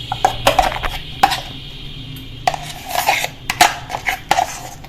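Coarsely ground urad dal paste is beaten in a bowl, giving sharp irregular clinks and knocks of utensil against the vessel in quick bursts with pauses between, close and fairly loud, no talking.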